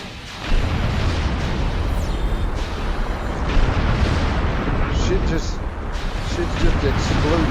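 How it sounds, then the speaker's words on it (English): Explosions in the space combat game Star Trek Online, a loud continuous rumbling barrage of blasts and bursts with someone talking over it. "shit's just exploding"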